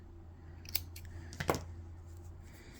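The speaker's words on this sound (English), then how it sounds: "we're going to cut off the yarn" Scissors snip through crochet yarn in a couple of quick, faint cuts close by, over a quiet background hum with no talking.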